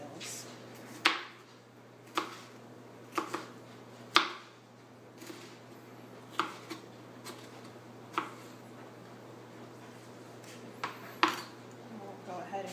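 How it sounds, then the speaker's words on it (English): Knife cubing vegetables on a cutting board: scattered single taps of the blade against the board, fairly faint and spaced a second or more apart, over a low steady hum. "I'm just going to go ahead and cube these"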